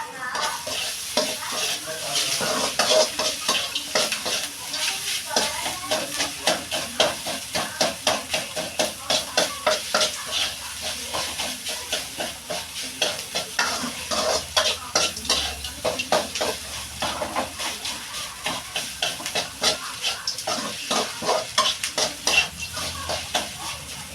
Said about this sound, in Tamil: நல்லா வதங்கிடுச்சு வெங்காயம் பூண்டு பச்சை மிளகாய் எல்லாமே இப்போ நம்ம இட்லியை போட போகிறோம்